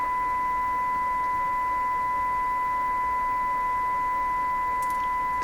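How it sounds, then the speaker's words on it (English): A pure sine-wave test tone runs through the amplifier of a Stromberg Carlson Model 515 radio, holding one steady, loud, unbroken pitch from start to finish. "beautiful sine wave there"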